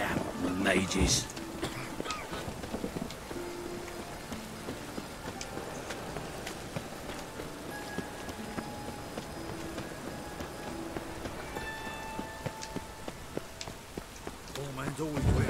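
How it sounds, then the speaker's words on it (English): Steady rain falls in The Witcher 3 under game dialogue and ambient town noise, a constant wash running through the whole stretch while voices speak over it. "It just rains and rains."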